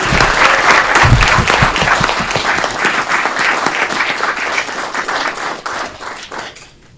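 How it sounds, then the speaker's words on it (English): An audience at a city council committee meeting breaks into loud applause, dense clapping that swells at first, then thins and tapers off toward the end. "Let's give her another round of applause."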